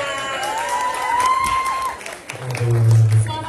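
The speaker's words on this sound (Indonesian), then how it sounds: "Tepuk tangan dulu ya." An audience at a student theatre staging claps and cheers, with a high whistle-like whoop rising above the noise and a voice calling out near the end.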